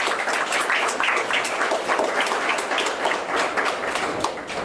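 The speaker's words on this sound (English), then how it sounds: "I think we deserve a round of applause for such commendable," Audience applause at a political party manifesto launch, a dense, steady wash of many hands clapping that fills the room throughout with no voices standing out.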